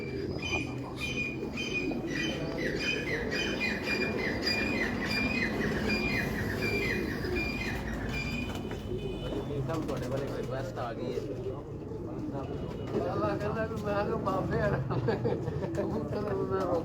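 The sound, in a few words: pigeons cooing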